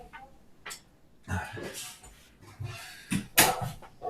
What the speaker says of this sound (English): just going to close my door.